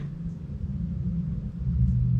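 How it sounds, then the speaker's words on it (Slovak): Traffic rumbling overhead, heard from inside tunnels beneath a city, forms a steady deep low drone that swells slightly louder toward the end, with no voices. "A tam nové auta počuť aj všetko,"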